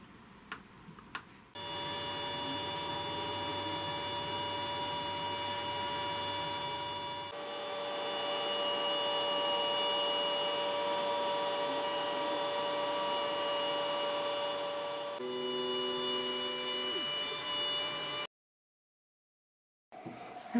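A WeCreat Vision laser engraver runs while cutting a wooden sign, a steady mechanical whir and hum with fan noise that shifts pitch in a few distinct stages before stopping abruptly into silence.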